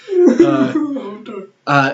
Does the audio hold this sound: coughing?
yes